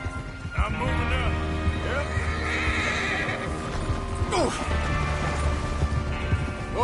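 Several horses in Red Dead 2 neigh and whinny in repeated rising calls over clip-clopping hooves, close and loud, with some voices talking underneath.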